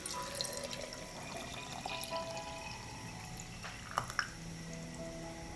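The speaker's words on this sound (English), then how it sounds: "Pour half a liter of water over the banana peel." Water is poured over cut banana peel in a jar, a faint, quiet trickle with a few soft drips and splashes near the end.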